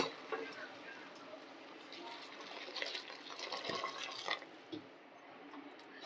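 Water poured into a pot on the stove for a Marathi-style veg dum biryani, a steady broadband splashing gush running throughout, moderately close with small surges toward the end.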